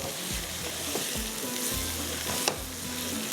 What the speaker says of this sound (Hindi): हल्का सा इसको करते हैं फ्राई इस तरह से, ताकि इसके साथ थोड़ा सा ये मसाले के साथ ये भून भी जाए